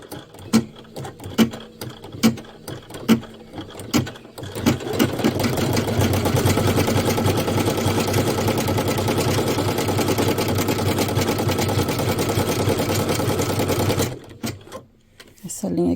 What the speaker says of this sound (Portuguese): Vou pra máquina. E agora, ela vai passar essa costura pra prender ali o meu forro.